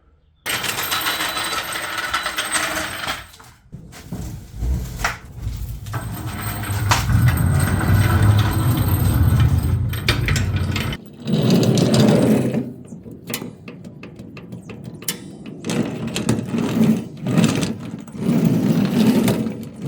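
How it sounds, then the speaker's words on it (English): A power drill whirs and grinds in long loud bursts, rising and dropping as it bites into a metal flatbed underbed toolbox, with clanks and pauses between runs. "So we're gonna drill holes in from the top"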